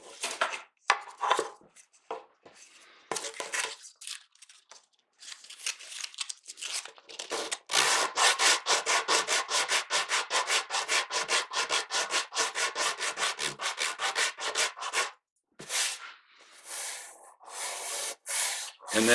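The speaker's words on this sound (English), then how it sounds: "just sand until that hump kind of goes away." Steady back-and-forth sanding strokes rasp against a wooden mandolin back in a fast, even rhythm, close and fairly loud, with a few scattered rubs and pauses at the start.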